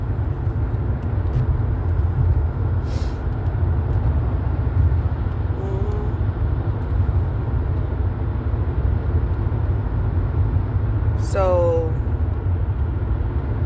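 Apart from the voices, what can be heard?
early morning road traffic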